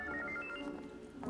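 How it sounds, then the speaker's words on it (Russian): An indoor telephone ringing in a drama film, a brief warbling electronic ring tone that is moderately loud and heard alone. "Ой, звонок."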